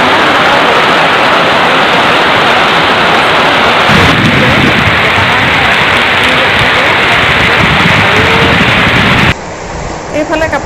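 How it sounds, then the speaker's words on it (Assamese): Sudden heavy rain with strong wind roars steadily and loudly throughout, a dense continuous downpour close by that shifts slightly near the end. "বতাহো মাৰিছে, বৰষুণো দিছে।"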